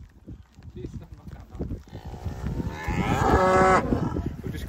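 Cattle in a field along the Cumbria Way, with a loud close moo rising near the end over footsteps, rustling and outdoor background noise.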